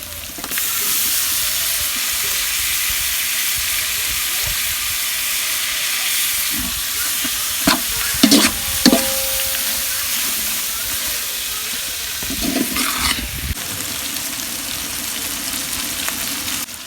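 About 400 grams of tomatoes fry with country chicken for biryani, giving a loud, steady sizzle and hiss with a few clanks and scrapes of stirring.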